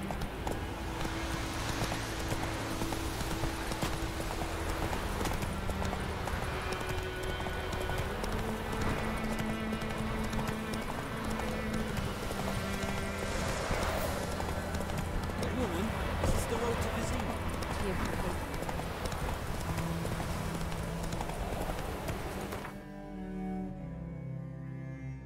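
Horse hooves clip-clopping at a steady gallop while riding in The Witcher 3, continuous and fairly loud under game music and ambience, with a brief voice near the end.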